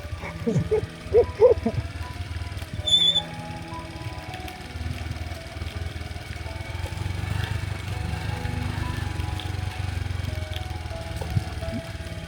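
A motorcycle engine runs with a low, steady drone on a road. Voices talk over it near the start, and the engine keeps going alone afterward.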